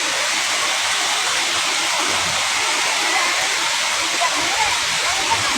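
Sarika waterfall in a Thai forest pours in a steady, broad rushing roar that never lets up, loud and close, with no break in the flow.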